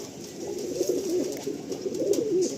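Kalanka pigeons in a loft at Ichchapur coo in soft, rolling, repeated phrases, close and clear over a faint background hum.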